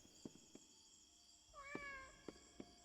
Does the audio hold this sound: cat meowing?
yes